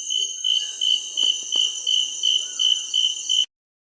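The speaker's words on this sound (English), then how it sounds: "Crickets and frogs were croaking as the breeze cooled Caterina van Barlow's farm." Crickets trill at night on a farm near Johannesburg in a steady pulsing rhythm of evenly spaced bursts, close and clear, with a couple of faint knocks beneath before the sound cuts off.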